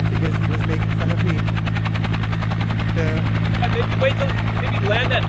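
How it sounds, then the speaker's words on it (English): A helicopter engine drones loudly and continuously with a fast rotor chop, steady throughout, with a voice talking over it. "Can you turn off your helicopter?"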